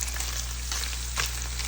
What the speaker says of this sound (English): Frying up nicely.